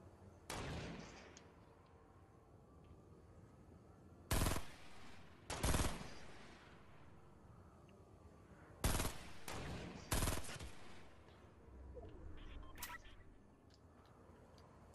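Gunfire in Fortnite: several sharp, loud shots ring out in separate bursts, a single crack, a pair, then a quick cluster, spaced apart over a low steady game background with no talking.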